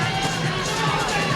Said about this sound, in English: Calls from a section of the crowd for Corbett to throw the elbow and try and finish this fight